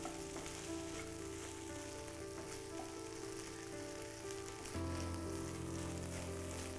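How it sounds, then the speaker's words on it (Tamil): Egg sizzles in hot oil in a pan for butter garlic egg, a continuous crackling fry that holds steady and then grows slightly fuller toward the end, with no voices. "இப்போது இந்த ஆயிலே கொஞ்சம் ஃப்ரை பண்ணிக்கலாம்"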